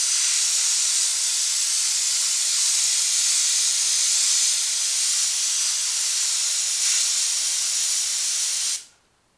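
An airbrush sprays black paint in a steady, loud, continuous hiss to fill a stencil for a PUBG design on a shirt or hat, running unbroken for about nine seconds before cutting off abruptly.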